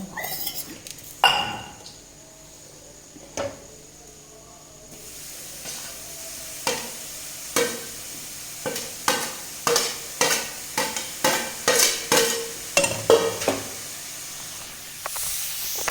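Paneer frying in a pan on a gas stove while being stirred, with a steady sizzle and a run of sharp utensil scrapes and clinks against the pan that quicken toward the end. No voices.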